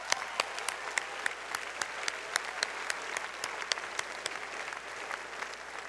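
Steady audience applause at a university convocation, a dense wash of many hands clapping continuously for several seconds with scattered sharper claps standing out, moderately distant in a large hall.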